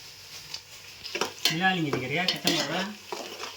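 A spoon stirs chutney mixture in a pan while bachelor biryani is cooked, with close scraping and clinking strokes; a voice talks over the stirring.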